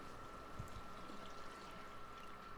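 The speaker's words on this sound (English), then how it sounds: "he's going to add more water because the beef is not soft enough" Water pours in a steady faint stream into a pot of Belizean stew beef, a soft continuous trickle with a low hum in the background and a couple of brief low knocks.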